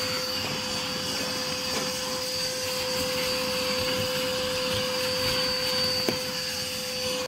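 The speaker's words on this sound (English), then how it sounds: "I'm going to vacuum this car." A vacuum cleaner cleaning the inside of a car gives a steady, close motor whine with a high tone, running continuously for several seconds with small shifts as the nozzle moves.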